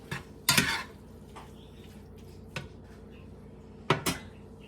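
Meat being cooked in a pan for egg roll in a bowl: a few sharp utensil clinks and scrapes against cookware ring out at irregular intervals over a faint, steady background hiss.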